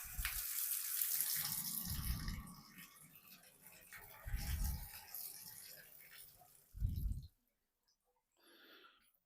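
Water runs from a Moen shower valve after a leak repair, a rushing flow with heavy low gushing surges that cuts off abruptly near the end, leaving near silence and a faint trailing sound.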